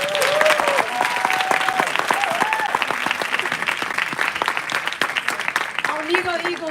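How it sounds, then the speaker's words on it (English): An audience at a live event breaks into loud, sustained applause that runs throughout, with a voice speaking and calling out over the clapping. "I give her a round of applause one more time"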